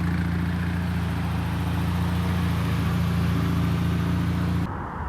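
A 1991 Yugo GV Plus with electronic fuel injection idles steadily nearby, its engine giving a loud, even hum with a low droning pitch that cuts off abruptly at the end, no talk.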